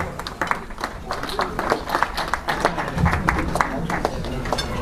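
Sparse, thin audience applause for coach Johan Sixtensson before an Elitserien match against AIK, a scattered patter of individual claps running steadily throughout with faint background voices underneath.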